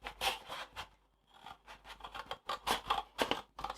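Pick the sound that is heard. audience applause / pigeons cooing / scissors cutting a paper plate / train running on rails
scissors cutting a paper plate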